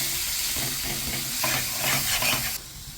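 Pointed gourd and prawn curry is stirred in a pan with nut paste and mustard paste, giving a steady scraping stir over a soft sizzle and hiss; the stirring lightens near the end.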